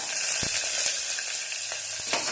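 Finely chopped small and large onions with curry leaves sauté in hot oil, sizzling continuously up close. A few sharp spatula knocks sound against the pan.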